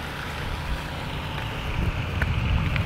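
Steady wind rushes across the microphone, a broad continuous roar that gusts slightly stronger toward the end.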